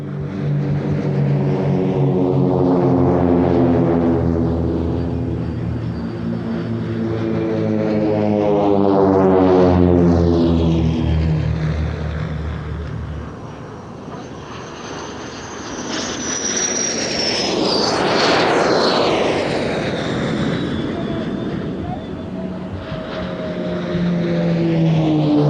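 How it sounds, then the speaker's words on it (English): Turkish Air Force training aircraft, propeller and jet trainers, passing one after another at an airshow, each swelling loud with a clear pitch-shifting buzz and roar as it flies by, then fading. "a selection of the Turkish Air Force's training aircraft, such as the SF-260, the venerable T-34s and T-37s, and, finally,"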